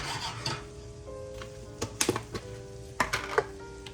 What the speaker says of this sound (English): You can already hear those sizzling.